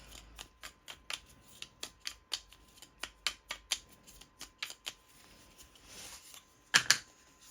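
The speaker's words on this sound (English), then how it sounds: "all the rock terrain tiles. Give them a shuffle up" Board game terrain tiles for a Rome: Total War tabletop game being shuffled by hand: a steady run of crisp, close clicking and riffling bursts, ending in a louder double clatter.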